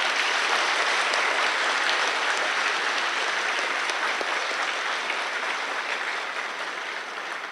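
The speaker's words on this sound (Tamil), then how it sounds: "கைத்தட்டல் கொடுங்க" Dense, loud applause from an audience at a Tamil organisation's anniversary event, a sustained roar of clapping that fades slightly toward the end.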